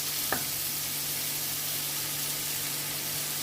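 A sweet, sour and spicy pickle made with sugarcane jaggery is stirred in a pot over low heat on the stove, giving a steady soft sizzling hiss with a brief scrape near the start under a faint constant hum.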